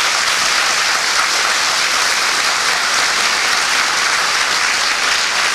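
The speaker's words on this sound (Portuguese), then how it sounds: "Vamos primeiro aplaudir bem forte o Senhor Jesus." A church congregation claps loudly and steadily for several seconds, a full, even wall of applause from a large crowd.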